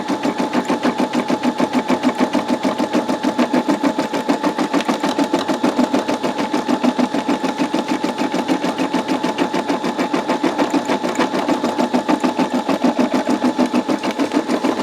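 A Brother SE625 embroidery machine runs steadily, its needle hammering out a fast, even, relentless stitching rhythm that stays loud and close without pause.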